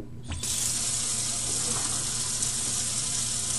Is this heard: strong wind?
no